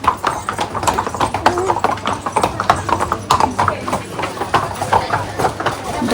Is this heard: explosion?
no